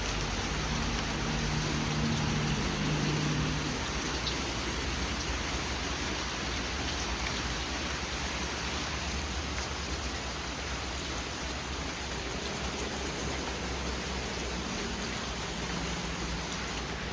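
Steady rain falls around a patio with hammocks at a rainforest rental, a dense, even hiss holding at the same level throughout with no voices.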